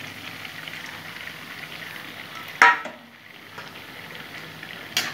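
Katla fish heads frying in a pan, a steady close hiss of hot oil with one sharp scrape of stirring partway through and another near the end, no voices.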